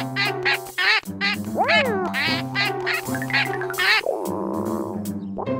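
A cartoon duck quacks in a rapid, squawky series, close and lively, ending with a longer nasal honk.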